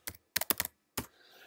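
A username and password are typed on a computer keyboard: a handful of quiet, crisp key clicks in two quick clusters, then a faint hum.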